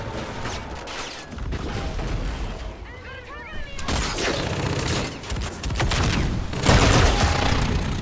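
Gunfire in the shooter game Infinite Warfare multiplayer, bursts of loud shots and booming impacts crackling in clusters over dense battle noise, with a player's voice talking over it.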